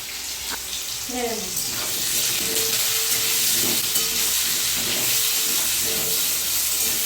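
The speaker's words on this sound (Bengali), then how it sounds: "তেল গরম হয়ে গেছে, আলুটা আমি ভেজে নেব।" Potatoes seasoned with salt and turmeric fry in hot oil with a loud, continuous hiss and sizzle that holds steady throughout.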